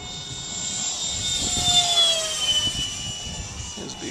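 A radio-controlled EF-16 model jet flies at half throttle, its steady turbine whine and rushing roar continuous and moderately loud, swelling slightly mid-pass as it goes by.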